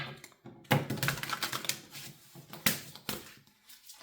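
Tarot cards are drawn and laid down one after another, giving crisp slaps, flicks and papery rustles at close range, with a few louder snaps and no voices.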